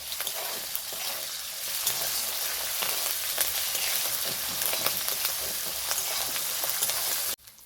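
Ginger and garlic paste frying with onion and capsicum for chili chicken, a steady close sizzle with faint stirring scrapes that cuts off abruptly at the end.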